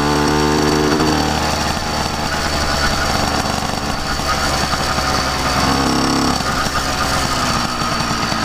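A Yamaha YD100 two-stroke engine with a modified cylinder and separate head runs loud and steady, four-stroking unevenly with a rough, burbling exhaust throughout and no talking.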